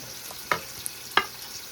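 Garlic fries in a pan, a soft steady sizzle broken by two sharp utensil clinks or scrapes, close and brief.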